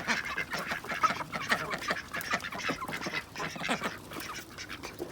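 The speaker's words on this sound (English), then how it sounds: "And here come the ducks." Hungry ducks arrive for a morning feeding with a dense, continuous chorus of honking and quacking, moderately near and without any speech.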